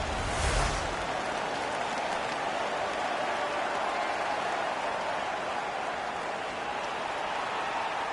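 Home crowd in the NHL 15 hockey video game roaring after a fight, a dense and steady wash of cheering noise that swells briefly at the start and holds throughout.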